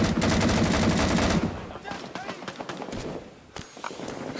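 AK rifle fire from the video game Rising Storm 2 rattles in a dense, loud automatic burst up front, then gives way to scattered distant shots and a single sharp crack, with voices talking throughout.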